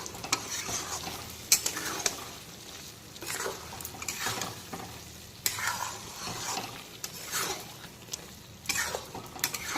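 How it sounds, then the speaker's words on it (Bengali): Yardlong beans stirred in a pan with poppy seed paste and green chilli, the spoon scraping and sizzling in repeated rhythmic strokes, close and fairly loud with no voices. "এখন পোস্ত বাটার সঙ্গে এগুলোকে খুব ভালো করে একটু মিক্সড করে নেব।"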